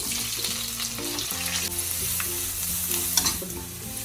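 Onions, kalonji, mustard seeds and cumin frying in oil for an egg potato curry, a dense close sizzle with stirring, under a steady background of music.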